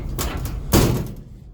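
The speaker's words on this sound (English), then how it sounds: "Shut the door here. I like this little door." A 2007 Chevy Express 3500 van door swings shut with a solid nearby thud, preceded by a softer shuffle of movement, then fades into quiet.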